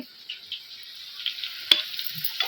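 Food frying in a pan during home cooking, a steady soft sizzle hissing continuously with a few small pops and one sharp tap, close and fairly quiet, with no talk.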